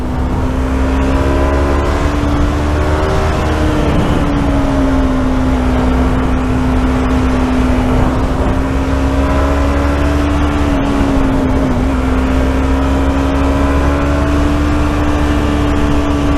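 Motorcycle engine from a motovlog rider on a wet uphill right-hand bend, with hard throttle making the engine stumble. A steady close engine drone runs the whole time, its pitch rising and falling slightly with throttle over constant wind noise.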